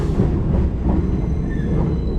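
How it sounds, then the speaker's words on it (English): A container freight train on a Norfolk Southern main line rumbles past steadily, with a dense low roar of wheels on rail and a brief faint squeal partway through, close and loud throughout. "I think we missed the container train."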